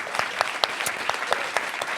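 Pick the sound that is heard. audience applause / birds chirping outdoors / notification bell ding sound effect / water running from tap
audience applause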